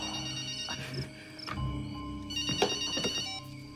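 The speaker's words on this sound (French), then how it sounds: "Téléphone. Hey, répondez, c'est sûrement urgent." A telephone rings in a couple of short electronic bursts in a quiet room, with faint movement and soft background sounds around it.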